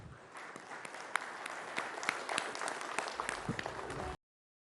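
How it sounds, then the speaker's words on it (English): An audience at a News 18 Rising India 2023 event gives a speaker steady, full applause, a dense wash of many hands clapping that runs for about four seconds and cuts off abruptly. "A warm round of applause"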